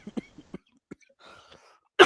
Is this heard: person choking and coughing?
yes